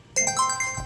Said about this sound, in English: That's the Alexa alarm that just went off.